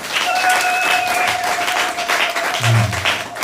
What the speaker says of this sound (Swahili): Mpe Yesu makofi mengi.